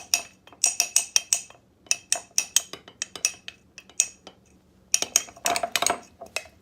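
A utensil scrapes and clinks against a bowl while gooey stuff is mixed in it. The taps come in quick, irregular bursts, close and fairly loud, with short pauses and no talking.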